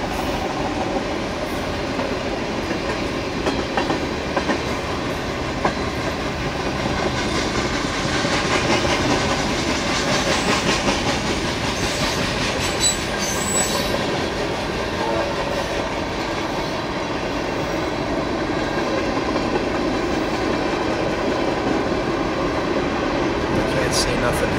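A BNSF freight train rolls past nearby on a quiet Sunday, a steady broadband rumble of wagons with faint clickety-clack, holding loud and even throughout, while someone talks over it.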